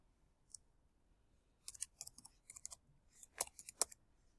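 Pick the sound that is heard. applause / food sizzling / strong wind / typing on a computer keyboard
typing on a computer keyboard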